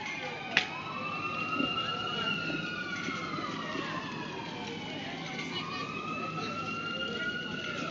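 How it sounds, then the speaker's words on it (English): An ambulance siren wails past in a steady rising and falling sweep, loud and close at first and then holding over continuous street background noise during evening protests. "sorry, that's the ambulance. That's the ambulance."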